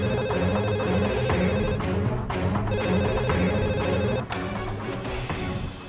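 A telephone rings continuously in an Indonesian TV drama, its steady electronic ringtone sounding loud and unbroken over faint room noise.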